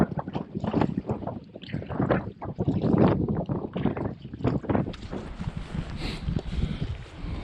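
Canoe paddling in cold, windy weather on Boundary Waters lakes, a series of close paddle strokes and water splashes in an uneven rhythm, with gusting wind buffeting the microphone, mostly alone without talk.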